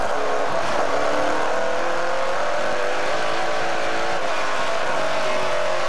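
Race cars on an oval track at the CRS Express 300 at Vallée-Jonction hold a steady, loud engine roar that keeps droning without a break, like a pack running close together.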